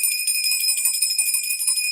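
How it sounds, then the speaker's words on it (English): A small bell rings steadily on a live stream, with bright, tinkling high tones that keep jingling throughout. "I have to pull out the bell because we have Justice for Kids."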